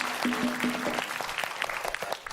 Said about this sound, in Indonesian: Beri tepuk tangan, yuk.